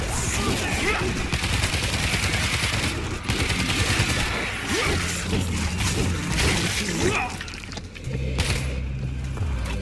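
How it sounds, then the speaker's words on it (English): Dense machine gun fire rattles through the zombie shooter World War Z, set in Moscow. Loud, continuous bursts come with crashes and chaotic battle noise, close up and nearly unbroken. "Machine gun set."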